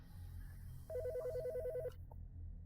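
A phone rings inside the video game Bad Summer, a loud electronic ringtone with a rapid warbling trill that repeats for about a second over a low background hum, then cuts off.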